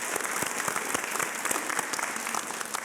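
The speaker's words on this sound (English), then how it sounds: "I think everybody should give Chipola College a round of applause." An audience at a college awards night applauds, with crisp, individual claps standing out in a steady, moderately loud round of clapping from a crowd.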